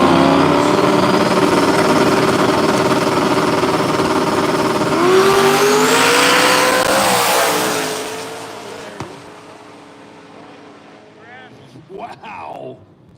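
A turbocharged small block Ford 363 Mustang drag race car roars loud and sustained at a track, engine tone rising before fading into the distance, with voices and crowd noise briefly audible afterward.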